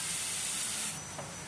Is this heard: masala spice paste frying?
yes